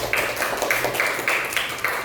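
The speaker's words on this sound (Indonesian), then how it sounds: "Tepuk tangan untuk Rangga." A classroom of students claps for a classmate in an even, patterned rhythm of about three sharp claps per second, moderately quiet and close.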